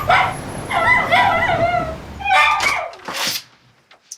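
A dog barks and yips excitedly several times, fairly close, with high whiny notes between the barks, then falls quiet.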